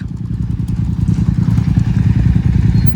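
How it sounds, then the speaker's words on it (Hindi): A Bajaj Dominar motorcycle being push-started on a slope in second gear chugs and clatters loudly and steadily close by, its engine thumping in a rapid uneven rhythm throughout. "अभी डोमिनर को हम लोग धक्का स्टार्ट दे दो"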